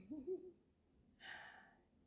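Birds hoot softly and briefly in a faint, quiet setting, two low cooing notes near the start followed by a breathy hiss.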